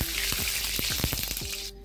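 Ghee hitting a hot kadai on a gas stove sizzles and crackles loudly and steadily, with bursts of spitting pops, then cuts off abruptly near the end.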